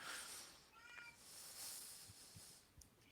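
A cat named Petunia, upset, gives a faint, drawn-out meow against a hissy background, followed by a few soft low bumps.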